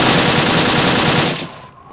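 Rapid automatic gunfire from modded classic weapons in Fallout New Vegas rattles loud and dense, then cuts off and trails into a short fading echo.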